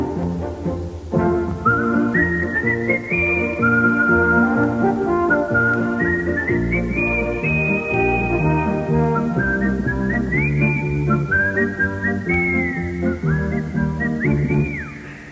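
A bright, melodic tune is whistled continuously over a full instrumental backing, the whistled line gliding up and down in sustained phrases.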